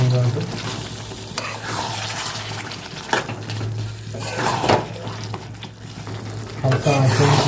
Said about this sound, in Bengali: চিকেন দিয়ে ভালো করে কষে নেব আগে।